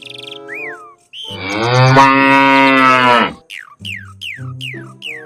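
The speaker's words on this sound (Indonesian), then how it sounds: "Ini hewan sapi." A cow moos loudly in one long, drawn-out call, with shorter squeaky, chirping sounds before and after it.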